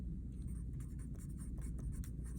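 Pencil writing on paper, close scratchy strokes in quick irregular bursts over a low steady room hum, with no talking.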